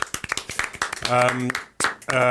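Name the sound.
small round of applause in a podcast studio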